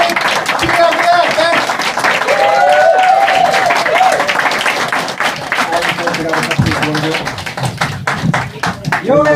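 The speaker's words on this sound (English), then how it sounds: "Give yourselves a Greek round of applause" A live comedy show audience claps loudly and continuously, with scattered taps, cheering voices and talk blended into the applause throughout.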